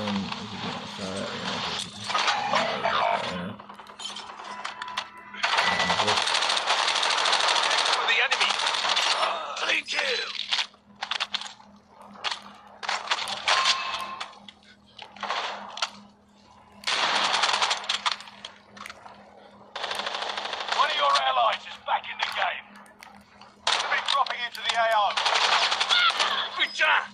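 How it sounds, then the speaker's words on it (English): Bursts of automatic gunfire in a Call of Duty Warzone Rebirth Resurgence match, loud rattling volleys repeating with short gaps, mixed with game effects and a player talking. "Is he getting shot?"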